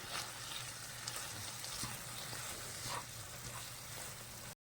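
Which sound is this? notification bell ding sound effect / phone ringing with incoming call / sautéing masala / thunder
sautéing masala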